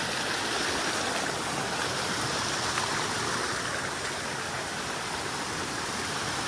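Steady, full rushing of water from a waterfall and stream near a Mahakali temple at Saravana, loud and continuous close by with no voices.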